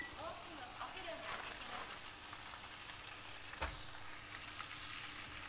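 Food sizzling on a grill in a home kitchen in Japan, a steady crackling hiss with scattered pops and one sharp click, fairly quiet and close throughout.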